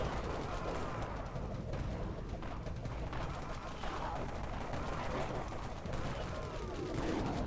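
Gunfire in the zombie shooter Dead Frontier during a boss hunt, a dense, continuous rattle of overlapping shots and impacts with no pauses, sitting at a moderate level throughout.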